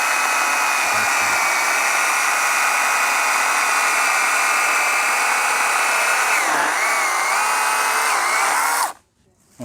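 A DCK KDML250 chainsaw runs steadily at high revs for about nine seconds, loud and close, dipping briefly in pitch as if under load before cutting off abruptly near the end.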